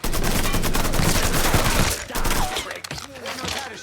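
A dense, loud barrage of automatic gunfire in a shooter video game runs for about two seconds, then thins into a few scattered shots and thuds.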